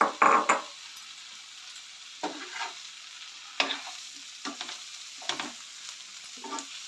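Pesarattu pieces frying in a pan with a low sizzle, broken by several distinct bursts of scraping and clattering as they are stirred, close and fairly loud, with quiet gaps between the stirs.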